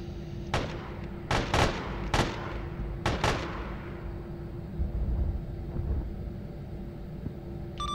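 Artillery fire mission in a military video game, with several heavy booming explosions in a loose cluster followed by a lingering low rumble; a steady engine-like drone runs underneath throughout.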